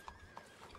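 A horse in the RedM video game clip-clopping at speed, its hoofbeats landing in a quick irregular rhythm, faint and distant, with a brief high whinny-like tone.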